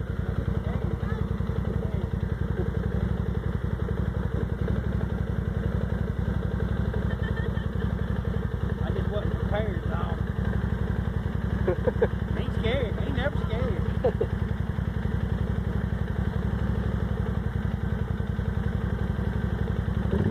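A 2008 Arctic Cat Thundercat 1000 ATV creeps through a mud hole in two-wheel drive, its engine a steady low rumble throughout while people talk nearby.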